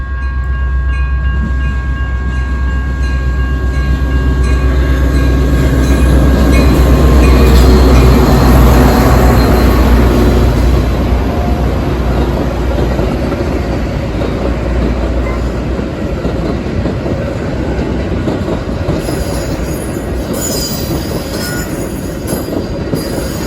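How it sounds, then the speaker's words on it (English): A long Metra commuter train led by two F40PH locomotives passes a road crossing in Illinois, its heavy rumble swelling to a peak then rolling on with clattering wheels and high metallic squeals near the end. "we noticed another metro train approaching the crossing"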